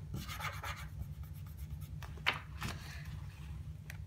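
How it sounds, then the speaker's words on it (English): Pencil drawing lines on paper followed by erasing, soft scratchy strokes and rubbing in short bursts over a low background hum, quiet and close. "Now draw the other side of each window, then erase all of the extra lines."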